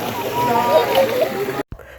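People bathe and splash in the pool of the Unudiya waterfall at Mirigama, with a steady wash of sloshing water and voices mixed in, then a brief drop to near silence before the water noise resumes.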